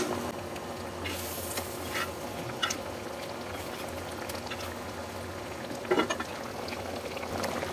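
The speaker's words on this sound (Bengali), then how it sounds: "ডালটার বলক এসেছে এখন আমি টুকরো করে ডিমগুলো এক এক করে ডালের মধ্যে দিয়ে দিচ্ছি" Dal made with potatoes keeps up a steady, close bubbling boil in the pot as halved boiled eggs go in one by one, with a few soft splashes and a faint clink.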